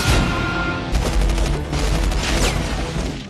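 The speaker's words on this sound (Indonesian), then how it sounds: "Aksi saling tembak tak terhindarkan" Gunfire rattles through a film action scene as two sides exchange shots near a store of chemical missiles: dense overlapping bursts and booms, loud and continuous, under a heavy dramatic soundtrack.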